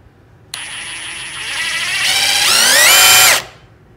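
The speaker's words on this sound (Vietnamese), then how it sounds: "Em mình khoan thử cái đây nghe." A power drill fitted with a FAMAG countersink bit whines up sharply, then bites into wood, its pitch rising and straining for about three seconds before stopping abruptly, loud and close.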